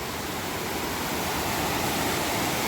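Steady, dense rush of a mountain river near Shenbagadevi Falls above Courtallam, Tamil Nadu, continuous and fairly loud, like a fast river tumbling over rocks close by.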